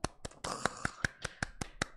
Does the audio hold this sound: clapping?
yes